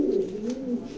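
A racing pigeon from a grizzle pair gives a single soft, throaty coo, close by and alone.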